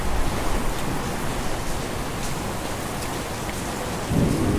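Steady heavy rain hisses across a broad band, a constant downpour with a slight swell near the end, no voices.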